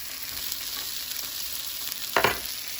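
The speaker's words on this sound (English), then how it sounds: "Just heating up the meatballs." Meatballs sizzle gently in a pan as they heat up, a soft, steady frying hiss close by, then a brief louder scrape or clatter near the end.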